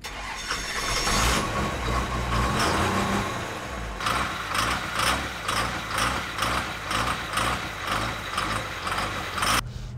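Freshly rebuilt Cummins diesel engine running in a truck on a dyno, a loud rhythmic mechanical chugging with regular pulsing beats and a steady low rumble, close and without talk.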